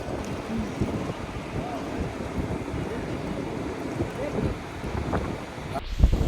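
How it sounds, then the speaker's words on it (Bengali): Steady wind gusting across the microphone by the sea at Cox's Bazar, a constant low rumble with faint surf, and a brief thump near the end. "সমুদ্র কি সুন্দর একটা বাতাস।"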